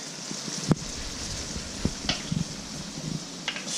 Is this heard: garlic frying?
yes